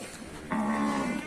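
A large water buffalo at a livestock market gives a single sustained low moo lasting under a second, loud and close, over a steady background of market ambience.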